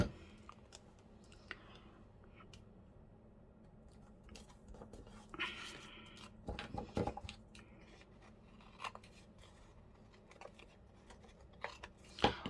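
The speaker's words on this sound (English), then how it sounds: "I can say I know that they're my fabric scissors." Fabric scissors snip and cut at a crafting table, sparse crisp clicks and short cutting bursts scattered irregularly, a louder cluster in the middle and a sharp snip near the end, close and quiet overall.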